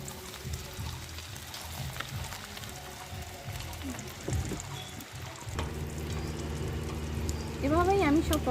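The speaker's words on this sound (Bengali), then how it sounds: "এভাবেই আমি সব পকোড়াগুলো ভেজে নিয়েছি" Chicken pakoras deep-fry in hot oil, a steady bubbling sizzle with occasional clatters of utensils and a voice speaking over it.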